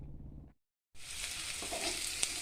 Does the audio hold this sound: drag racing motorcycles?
no